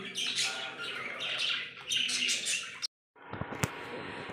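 Caged pet birds chirp and tweet busily up close, a dense chatter that breaks off for a brief silence before resuming with sharper calls.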